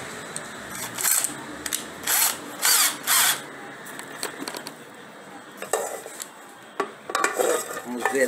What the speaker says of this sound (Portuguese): Vamos na parafusadeira aqui para ver se a gente consegue